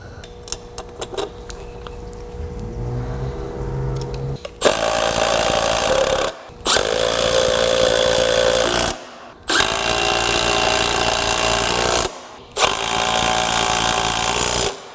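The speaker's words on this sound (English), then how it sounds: "The new ones bolt in, run the bolts up through the bottom." A power tool drives bolts for new ball joints on a GMT400 truck control arm, with three loud sustained buzzing bursts separated by short pauses, after some quieter clinking of parts.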